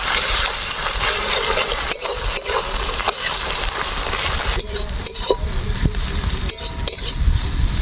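Ginger paste is sautéed in a hot pan, giving a steady, loud, close sizzle broken by occasional metallic clinks and scrapes of a spatula.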